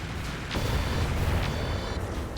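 Mech weapons firing during a RogueTech BattleTech game battle, a dense run of loud explosive bursts and booms with sharp cracks near the start and end over steady low rumble.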